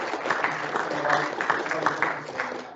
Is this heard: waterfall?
no